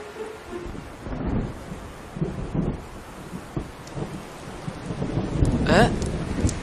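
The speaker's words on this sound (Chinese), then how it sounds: "哎，下雨了， 先回去吧，淋湿了就不好了。" A radio-drama effect of steady rain falling on surfaces, with low rolling thunder building toward the end and a brief sharp crack, all continuous and fairly loud.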